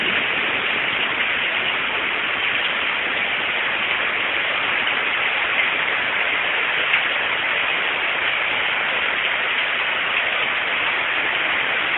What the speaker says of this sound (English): The rain is roaring down.